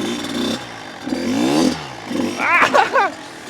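A Kawasaki KX dirt bike engine revs in repeated rising surges as the rider attempts a straight wheelie, loud and close, with sharper bursts toward the end.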